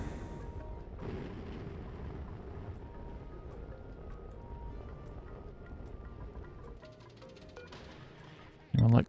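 A rocket launching in Oxygen Not Included, a long low rumbling roar that slowly fades, ending with a loud abrupt burst.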